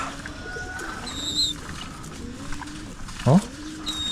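Low, soft cooing from pigeons in a loft amid faint background noise, with a brief louder burst near the end.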